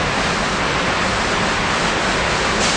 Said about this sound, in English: There's just a tremendous amount of water being removed from the sludge,